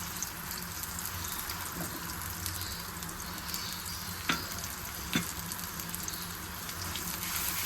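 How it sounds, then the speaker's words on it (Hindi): A medium onion fries in a kadhai for dahi kali mirch chicken, giving a steady, dense sizzle throughout, with a couple of sharp stirring clicks in the middle. "प्याज को लाइट ब्राउन कर लें, हल्का सा बस कलर चेंज करना।"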